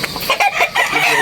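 A chicken clucks in a quick burst of close, choppy calls, heard on its own with no talk.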